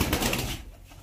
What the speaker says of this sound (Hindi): वो है कबूतरी, और वो कल की मुझे लग रहा है कुछ बीमार है